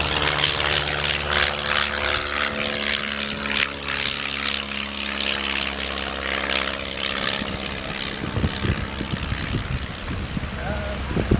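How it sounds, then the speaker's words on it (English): Blackburn B2 training aircraft, a Royal Air Force trainer, flying with a continuous propeller engine drone, its tone shifting slightly as it passes. The sound is steady and fairly loud, with some outdoor background noise. "what you'll watch Blackburn B2, also a training aircraft designed for the Royal Air Force"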